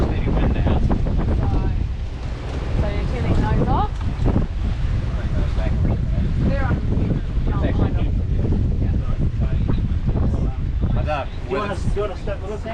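Steady wind blowing while sailing a cruising catamaran in the Caribbean, heavy wind buffeting and rushing water under continuous talking from people aboard.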